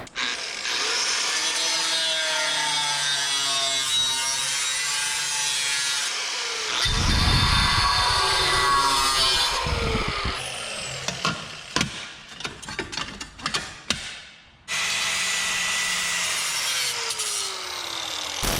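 A grinding disc cuts off the brake dust shield on a BMW M3, a loud continuous abrasive whine with harsh rasping, then broken into short choppy bursts and pauses before grinding resumes steadily.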